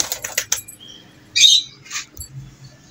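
Pigeons' wings flap in a few short, sharp bursts, close by, with brief scratchy rustles and faint chirps between them.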